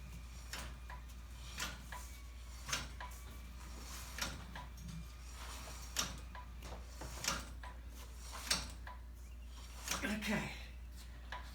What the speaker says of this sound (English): spinning the wheel and hitting the brake